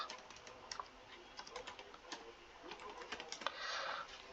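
Computer keyboard typing, used to enter a serial number, date, expense and amount into an Excel spreadsheet: a steady run of quick, light key clicks, close and fairly quiet, with no talk.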